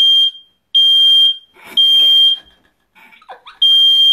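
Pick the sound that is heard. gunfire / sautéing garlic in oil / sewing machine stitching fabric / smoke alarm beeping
smoke alarm beeping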